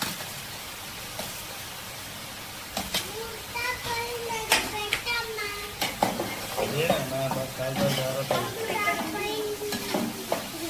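Tomatoes stirred into village-style Rayalseema mutton gravy sizzle and fry in a pan, with steady close frying hiss broken by scraping stirs and clatters.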